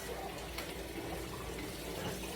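Cold tap water runs steadily over canned black beans in a sink, a constant close hiss and splatter of flowing water with no talking.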